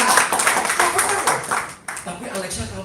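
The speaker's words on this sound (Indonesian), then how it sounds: "Tepuk tangan dulu." A church congregation at Bethany in Bandung breaks into brief, close clapping that swells and dips over a few seconds, with talk running over it.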